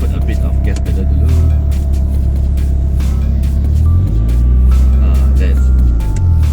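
A Mitsubishi Lancer Evolution 5 engine under throttle gives a loud, deep rumble heard from inside the car, with the revs swelling midway and settling again; voices talk over it.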